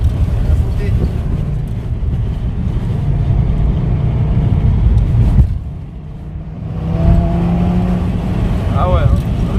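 Audi RS3 with around 600 hp pulling hard uphill toward a roundabout, a loud steady engine roar that dips briefly mid-way before building again, with people talking inside the car.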